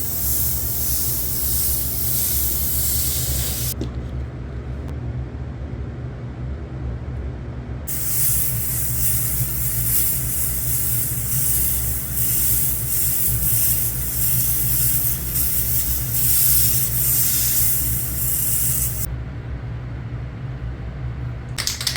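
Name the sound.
airbrush spraying red paint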